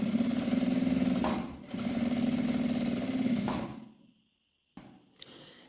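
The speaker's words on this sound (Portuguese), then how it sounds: "aqui eu vou passar uma costurinha rebatendo" Close, steady whirring of a sewing machine topstitching fabric in two runs with a short pause between them, then it winds down to silence before a few light clicks.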